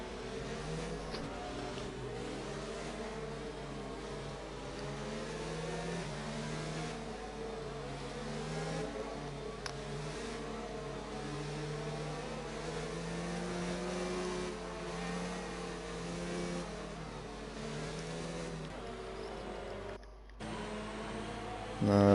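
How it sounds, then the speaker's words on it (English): Race cars in the F1 2019 video game idle along in a slow pack behind the safety car at the British round, a steady droning engine hum with layered tonal whine lasting throughout, fairly even in level. "The safety car is staying out for another lap"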